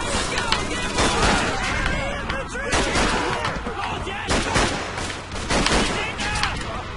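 Gunfire in the Call of Duty 3 Laison River level, dense loud bursts and booming shots crowding together almost without pause, a chaotic near battle soundscape with no clear talk on top.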